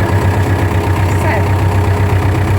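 A tractor engine runs while driving, a loud, steady low rumble with a constant mechanical drone holding level throughout, up close with slight background variation.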